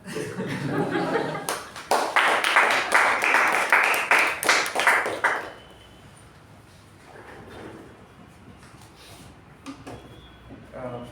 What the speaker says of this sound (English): Let's give that team a special round of applause